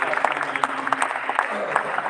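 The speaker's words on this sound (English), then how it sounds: "Let's have a round of applause for these young kids" Young National Cadet Corps cadets are applauded after a performance. The clapping is brisk and continuous, with a voice faintly heard underneath.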